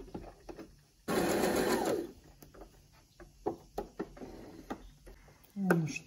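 Domestic sewing machine stitching seams, a steady whirring run of needle strokes lasting about a second, followed by quieter ticks and handling clicks and a brief second burst.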